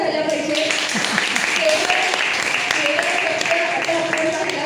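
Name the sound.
audience applause at a temple event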